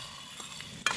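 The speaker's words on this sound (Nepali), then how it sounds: "मासु चाहिँ यहाँ फ्राई गर्न लागिसकेका छन्" Meat fries in a pan with a soft, steady sizzle. A sharp metallic clink of a stirring utensil comes near the end of the short moment.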